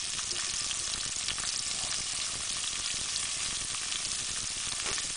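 Garlic and onions sizzle in hot oil as the base for vegetarian jollof rice, a steady bright hiss of frying that stays even and continuous with no talk.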